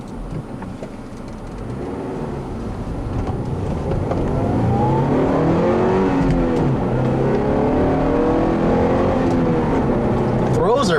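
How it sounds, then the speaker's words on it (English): A 2009 Toyota Corolla XRS with a 5-speed manual revs during a test drive, its engine note rising and falling through gears under the steady road and cabin noise, with someone talking over it. "The engine doesn't sound very inspiring"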